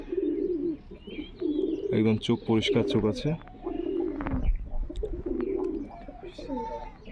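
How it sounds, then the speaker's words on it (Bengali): Pigeons coo in low, repeated throaty rolls close by, while someone talks over them. "এটা হচ্ছে মাদা পায়রাটা, নর পায়রাটা আপনাদেরকে শখ করে দেবো"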